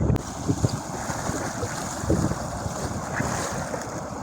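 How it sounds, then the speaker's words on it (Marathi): Steady rushing of sea surf on the Konkan coast with occasional surging swells, mixed with wind buffeting the microphone, loud and continuous throughout. "समुद्रावरचा प्रवास आणि असा लाटांचा एक आनंद"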